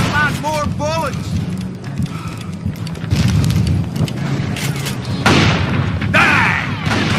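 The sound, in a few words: gunfire in video game Call of Juarez: Gunslinger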